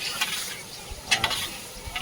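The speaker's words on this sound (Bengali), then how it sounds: "এদিকে আলু ভাজা হচ্ছে, আর ওদিকে মাছের ঝাল হচ্ছে।" Potatoes fry in a pan of oil in a home kitchen, a bright sizzle with a few stirring scrapes and soft low clatters, fairly close and without talk.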